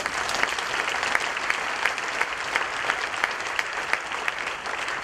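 A church congregation at Eglise la Bonne Nouvelle au Tampon applauds and acclaims Jesus, a dense, sustained wash of clapping from many hands with no single voice standing out, steady and full throughout.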